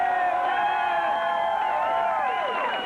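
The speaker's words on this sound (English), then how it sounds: "Let's have a big cheer for my producer" A studio audience at a 1991 game show cheers and whoops loudly and steadily, a dense crowd roar with shouted voices on top, holding near-constant level throughout.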